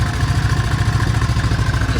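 A Kawasaki Mule utility vehicle engine idles steadily after a hard-start fix, giving a loud, close, even rumble with a rapid mechanical chug throughout.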